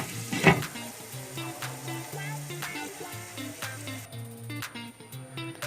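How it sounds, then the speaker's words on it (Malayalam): Onions with a little salt sauté in a pan on the stove, giving a close, continuous sizzle broken by occasional scraping stirs and a brief louder burst near the start, all without talk. "ഇനി നമുക്ക് പാൻ അടുപ്പത്ത് വെച്ചുകൊണ്ട് ഉള്ളി ഒന്ന് വഴറ്റിയെടുക്കാം"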